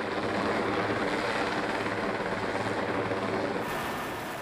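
Super Puma helicopter in flight, its rotor and turbine roaring steadily and loud throughout with a dense, continuous thrum, easing slightly near the end, and no voices.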